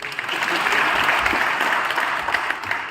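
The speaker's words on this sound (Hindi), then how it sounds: "ताली बजाइए इनके लिए।" An audience at an election rally in Rajasthan applauds continuously, a dense, loud clapping wash that holds steady for several seconds, with faint voices mixed in.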